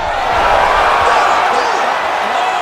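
A video-game crowd roars and cheers continuously after a heavyweight knockout in the UFC 5 fight between Alexander Volkov and Mike Tyson, a loud, steady arena wash with no clear speech.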